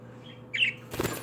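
A pet budgie chirps twice in a short burst, a bright close tweet followed by a brief flutter of wings, during a millet-feeding session indoors.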